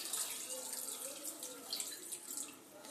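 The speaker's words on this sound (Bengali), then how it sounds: "আর একটু জল দিয়ে দেব সেটাও আমি গরম জল দেব" Hot water pours into a pot of chicken khichuri with a quiet, continuous splashing gush, close by and fairly soft.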